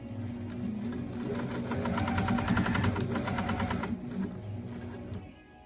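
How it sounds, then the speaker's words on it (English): A sewing machine stitches quilt block fabric made from Andover Green Leaves fat quarters with a quarter-inch presser foot, a close, rapid mechanical whir with rhythmic needle clatter that speeds up midway, then slows and fades near the end. "I get situated at the sewing machine"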